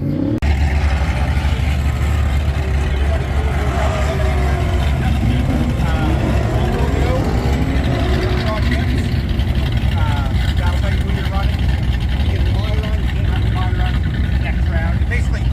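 Mini bike engine at a drag racing event, a loud continuous motor drone with shifting pitch as the bike runs, close and dominant, with voices faintly mixed in.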